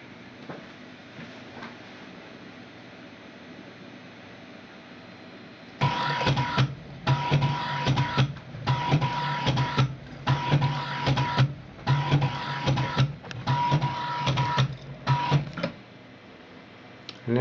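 A CNC coil winder wraps wire around 12 rotor pins on a Rodin starship coil add-on. After a quiet stretch it runs close by in about seven rhythmic whirring bursts, each separated by a short pause.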